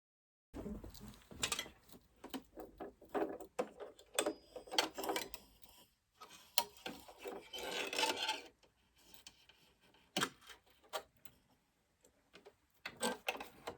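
A sewing machine stitches a label onto a knitted cardigan in short, quiet bursts of rapid mechanical whirring separated by pauses, close but faint, with no voices.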